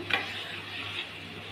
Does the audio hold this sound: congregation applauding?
no